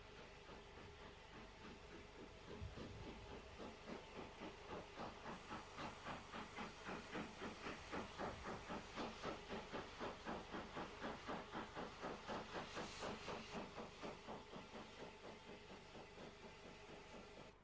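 A J39 steam locomotive, number 64834 of 31B shed, works past hauling a freight train, its rhythmic exhaust beats and rail clatter building steadily into a loud, regular chuffing that continues throughout before easing slightly at the end.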